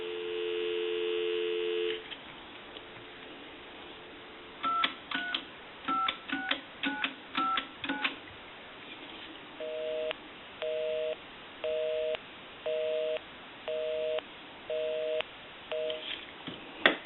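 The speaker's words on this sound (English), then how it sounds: "We can call my number, and it'll be busy. We'll give you some dial tone." A payphone's tones come through a telephone handset line: a steady dial tone at the start, then a burst of quick touch-tone dialing beeps, followed by a regular on-off busy signal pulsing about once a second over low hum.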